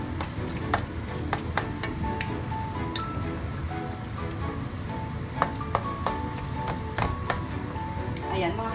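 Sticky rice biko being stirred together with its dukot topping in a pan, a steady scraping and sizzling texture with scattered clinks of the utensil against the pan, close and continuous, with faint talk in the background.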